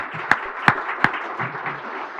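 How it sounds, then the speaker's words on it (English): Applause at a green economy conference, brief and modest, with three sharp, distinct claps standing out near the start over a thin bed of scattered clapping. "another round of applause, please, for Eduardo Gutierrez"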